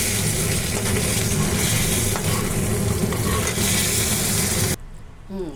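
Loud, dense sizzling of koi fish (climbing perch) frying in oil with stirring scrapes, cutting off abruptly near the end to near quiet.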